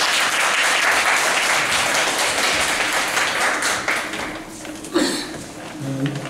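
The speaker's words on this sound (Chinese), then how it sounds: "那我们现在先热烈掌声欢迎李明勇老师" An audience applauds warmly to welcome a lecturer at a philosophy talk evening, dense clapping filling the room steadily before thinning out, with a brief tap and a few isolated sounds near the end.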